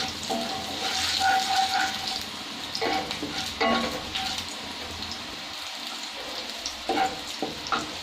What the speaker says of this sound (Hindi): अभी इसमें थोड़ा सा जीरा डाल रही हूँ।